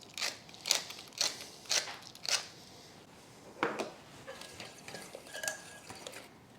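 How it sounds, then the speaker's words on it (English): Whisking a pinch of salt and pepper into a sausage and peppers casserole mixture: a run of quick scraping, clinking whisk strokes against a bowl, bursty at first, then lighter and more scattered, fairly close. "Now I'm going to whisk in some salt."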